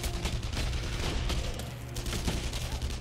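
Gunfire in the World War II shooter game Enemy Front: a loud, steady wash of battle noise with several sharp shot cracks, close and unbroken for the whole stretch.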